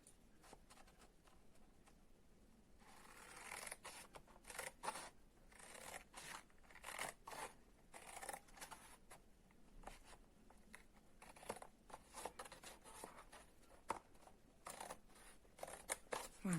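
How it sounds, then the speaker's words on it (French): Scissors snip a 1 cm strip from a paper gift box top, a quiet close series of crisp, rapid cutting crunches and rustles repeating through the whole stretch. "Nous allons couper la première bande des 1 cm"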